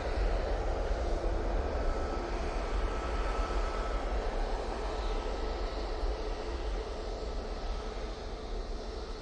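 An airplane engine roars steadily at Manchester Airport, a broad sustained rumble that stays loud and unbroken, with no voices.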